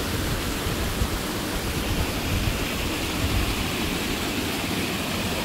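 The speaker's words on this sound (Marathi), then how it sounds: "तशाच प्रकारचा हा आपला हिडन प्लेसचा हा धबधबा आहे छोटासा" A small hidden waterfall in the Konkan countryside pours in a steady, dense rush of falling water, close and continuous with no breaks, and nobody speaks over it.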